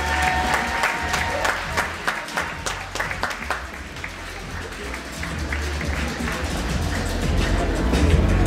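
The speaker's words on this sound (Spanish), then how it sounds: "Un fuerte aplauso." Audience applause at a beauty pageant, a crowd clapping with sharp distinct claps at first that blend into a steady, swelling wash of applause and cheering.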